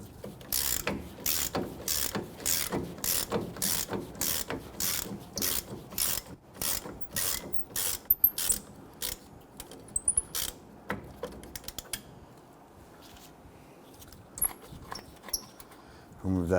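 Rapid, steady ratchet clicks from removing a caliper bracket bolt on a Nissan Frontier's rear brakes, a long run of sharp, evenly spaced clicks that slows and turns into scattered metallic clinks near the end.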